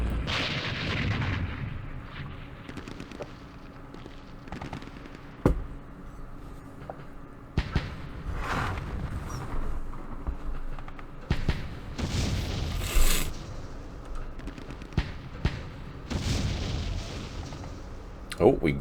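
Mortar and artillery fire in a Vietnam War strategy game, with scattered booms and sharp bursts at irregular intervals over a continuous rumbling battle backdrop, mostly moderate in level.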